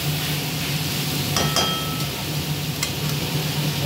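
Shrimp masala frying in a pan, a steady close sizzle with a few brief stirring scrapes and light clinks of a utensil against the pan.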